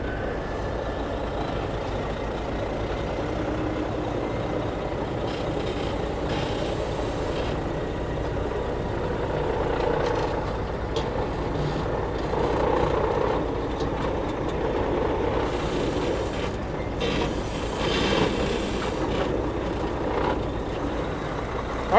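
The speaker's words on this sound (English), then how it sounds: "Just put in first gear and just ease forward." A truck eases forward in first gear during corn harvest, a steady low engine rumble and drivetrain drone running continuously at moderate level with faint higher clanks and hiss, no voices.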